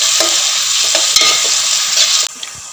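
Chopped tomatoes being stirred into a frying masala for chicken biryani, with a loud, steady sizzle and the scrape of a spoon against the pan, close up with no talking.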